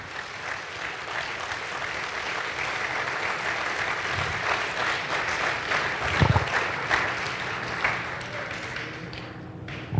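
Church congregation applauding steadily throughout, a dense wash of many hands clapping at moderate loudness with a brief louder burst midway, no speech over it.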